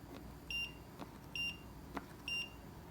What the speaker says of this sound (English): that must just have been the timer